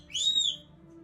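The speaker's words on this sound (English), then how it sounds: "excuse the birds in the background; they are very angry because they're still in their cages." Caged pet birds call in the background, sending out a single loud, whistle-like chirp that rises and falls. It lasts about half a second and stands alone with no talking.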